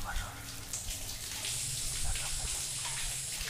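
Steady hiss of running shower water in the Granny Ka Beta horror game, a continuous rushing spray at moderate level that swells slightly partway through, with faint background noise.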